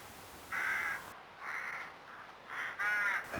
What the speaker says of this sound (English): The noise around the rookery is one of the nicest sounds of the countryside.